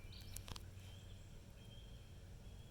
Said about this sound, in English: if you can hear that bird.